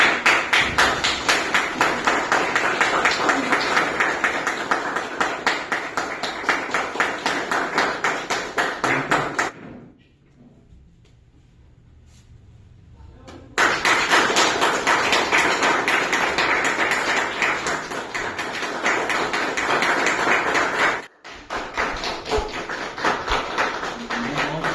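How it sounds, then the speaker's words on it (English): An audience at a Meghalaya Kho Kho Association annual general meeting claps for guests, a dense, even round of applause that breaks off to near silence for a few seconds, then resumes. "So we will again give our guests a round of applause."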